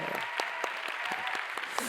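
A church congregation at a Sunday service claps in welcome, with lively, uneven applause and scattered sharp claps ringing out in the hall.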